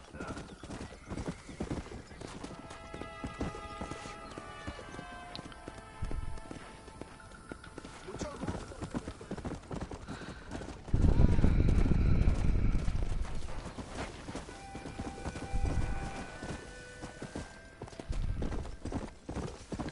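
Clip-clop of a horse's hooves in the video game Red Dead Redemption, a steady rhythmic trot with a loud stretch of galloping and whinnying midway, set against faint game music and ambience.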